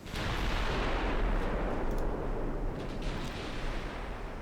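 Heavy naval guns booming from warships in a Japanese naval combat video game, a dense rumbling barrage that stays loud throughout with little gap between shots.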